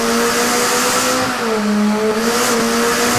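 A McLaren 720S engine holds a steady, loud revving drone close by, its pitch sliding slightly down and back up while it keeps running throughout.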